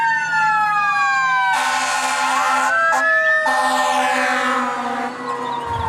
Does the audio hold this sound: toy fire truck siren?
yes